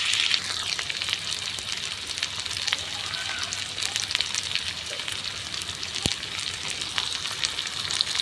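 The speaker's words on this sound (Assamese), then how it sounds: "এনেকৈ ভাজি আছোঁ অকণমান সময় ভাজি" Pointed gourd and potatoes fry in a pan, giving off a steady, soft crackling sizzle that runs throughout, with a few faint clicks and no talking.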